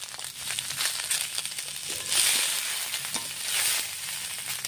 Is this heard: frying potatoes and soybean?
yes